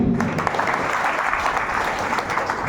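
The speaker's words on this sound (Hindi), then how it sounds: "एक जोरदार और ज़बरदस्त ताली" Steady, dense applause from a large crowd at a seminar, loud and continuous throughout with no voices standing out.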